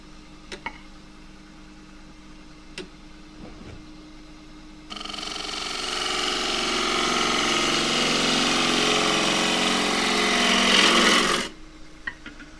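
A wood lathe spins a green casuarina bowl blank as a tool cuts, giving a steady rising whir-and-scrape for several seconds between quieter idle stretches with faint knocks.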